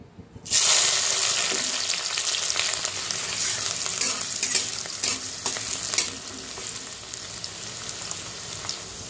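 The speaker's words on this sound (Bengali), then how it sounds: "তো তেল গরম হয়ে গেছে, দিয়ে দিব কুচানো পেঁয়াজ।" Chopped onion hits hot mustard oil in a heated wok with a sudden loud sizzle, then settles into a steady, bright frying hiss with light stirring scrapes throughout.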